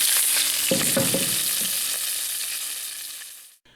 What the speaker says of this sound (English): Garlic, venison backstrap on the rocket stove.